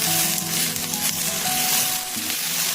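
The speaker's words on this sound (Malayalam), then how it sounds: "ഇനി നമുക്ക് ദോശ ചുട്ടെടുക്കാം" Masala dosa batter sizzles on a hot pan, a steady close frying hiss with faint scraping and no voices.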